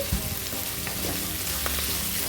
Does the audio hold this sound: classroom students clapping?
no